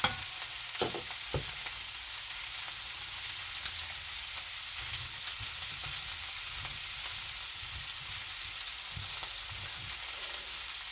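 Sausage with peppers and onions frying in a pan, a steady bright sizzle throughout with occasional soft knocks and stirring clatter, close and without talk.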